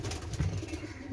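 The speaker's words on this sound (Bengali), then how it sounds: "দেশি পায়রা।" A native domestic pigeon coos softly and close by in a short, low, burbling call with a faint background hum.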